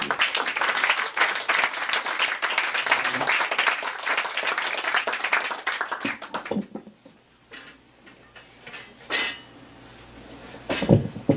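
An audience at an evening poetry event applauds the poet with dense, full clapping for about six seconds, then it breaks off into scattered faint claps, small clatters and a few bursts of nearby noise.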